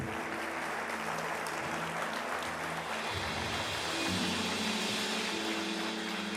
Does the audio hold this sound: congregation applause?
yes